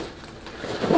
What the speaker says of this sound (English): I'll zip it up.